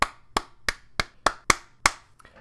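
Seven sharp, evenly spaced hand claps ring out close and crisp in an otherwise quiet room, a slow deliberate rhythm of about three claps per second.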